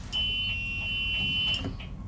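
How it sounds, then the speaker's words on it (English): A school bus emergency roof hatch alarm on a Type-A1 bus sounds as a steady, piercing electronic tone that holds for about a second and a half, then cuts off, with no talking. "You'll prop open the roof hatch and turn the red handle until you hear the alarm."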